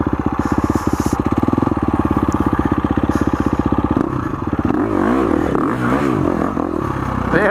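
A 2019 KTM 350 XCF dirt bike engine runs while riding, first in a steady rapid pulsing chug at close range, then revving up and down in loud, wavering bursts with some rattling.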